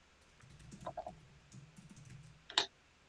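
A few soft keyboard taps and clicks at irregular intervals, faint and close, ending in one sharper click.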